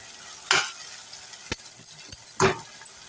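Tomato curry simmering in oil in a pan on a stove, with soft sizzling and several clinks and scrapes of a spoon stirring against the pot, close and fairly quiet.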